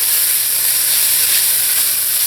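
Italian sausage and vegetables sizzling in a pan, a dense, loud, continuous hiss with no breaks and no voices.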